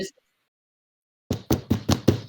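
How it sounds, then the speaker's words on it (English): A hand slams a table five times in a quick, evenly spaced run of loud thumps after a short silence. "That's the sound of me slamming my table"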